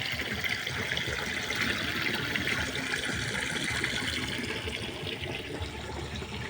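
Water runs steadily from a household tap in the morning, a continuous close hiss that stays level from start to finish with no talking over it.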